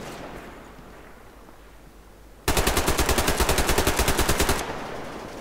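Automatic gunfire in the video game Survarium, a loud, rapid burst of about two seconds of evenly spaced shots that starts abruptly after quiet game ambience and cuts off sharply.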